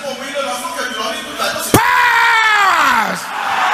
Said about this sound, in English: Can you shout this loud and clap before you sit down?